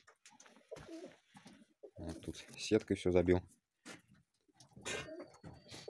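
Several pigeons, Nikolaev and mixed breeds among them, coo softly in a small makeshift aviary inside a warm shed, low bursts rising and fading between stretches of quiet while someone talks nearby.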